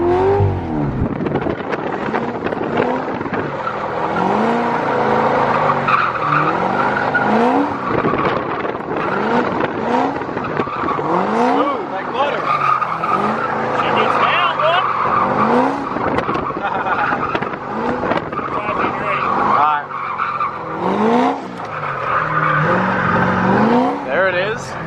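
A Corvette Z06 drifting, its tires squealing in repeated sweeping bursts over a steady engine roar, loud and close throughout, with people talking and cheering over it.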